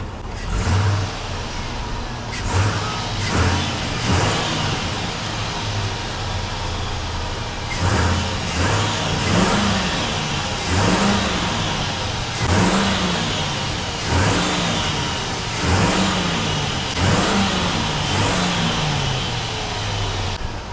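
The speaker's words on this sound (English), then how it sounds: "if I put it in reverse, oh, it's actually moving now. Sounds pretty bad though." An old truck with a failing transmission backs up in reverse, its mid-pitched engine droning loudly and close with a rhythmic, repeating surge and grind every couple of seconds across the whole stretch.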